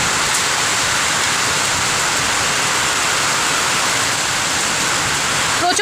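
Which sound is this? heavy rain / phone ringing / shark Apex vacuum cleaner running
heavy rain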